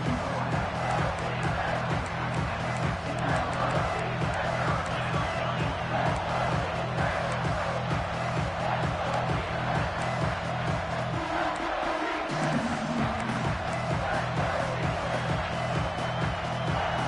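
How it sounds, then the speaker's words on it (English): Football stadium crowd roaring steadily from the stands, a broad continuous wash of cheering and noise that holds loud throughout as the home defense plays down in the red zone, with no clear talk on top. "the crowd coming to life here, trying to help this defense down in the red zone"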